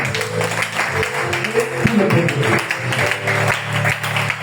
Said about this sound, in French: Je veux qu'on acclame le Seigneur encore pour ces deux personnes qui sont assises.